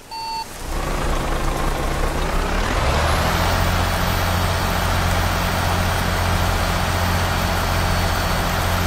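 Heavy truck engine in a driving video game, labouring up a steep mountain road, a loud steady drone that builds after a short beep at the start and holds alone to the end.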